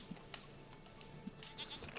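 Goats bleating in the video game Seasons: A Letter To The Future, a few short, faint bleats scattered over a quiet ambient background, with no talking.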